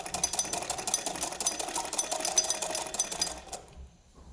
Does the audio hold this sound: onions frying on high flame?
no